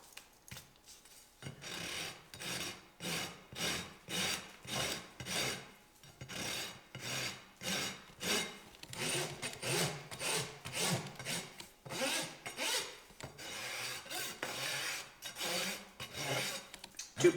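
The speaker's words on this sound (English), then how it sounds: "And we'll just start rasping it flat." A farrier's rasp files a horse's hoof flat during concave shoeing, making repeated rhythmic rasping strokes, steady and close, with no talking.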